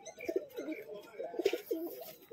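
Madras pigeons with sharp head shapes, high-flying birds, give soft, repeated low cooing calls close by in a steady throaty rhythm.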